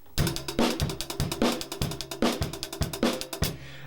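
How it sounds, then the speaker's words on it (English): Drum kit groove with quick, even sixteenth-note hi-hat ticks running over kick and snare hits, steady and close. "You could play 16th notes on the hi-hat"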